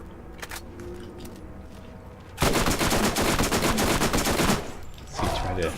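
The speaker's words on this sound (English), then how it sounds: "Looks like we're gonna have to go with the SMG." Rapid bursts of SMG fire from the video game Borderlands, a sustained loud chatter of shots after a quiet lead-in, with a shorter second burst near the end.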